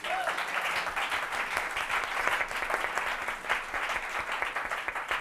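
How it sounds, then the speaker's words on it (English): An audience at a community event gives a round of applause, a dense, even patter of clapping that holds steady for several seconds at moderate volume. "I think that deserves a round of applause, right?"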